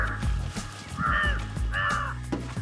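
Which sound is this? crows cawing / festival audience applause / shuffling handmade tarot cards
crows cawing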